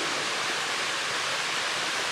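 Steady broadband roar of a waterfall in the Shirakami Mountains, Aomori, a continuous white-noise rush with no pauses, fairly close and alone without voices.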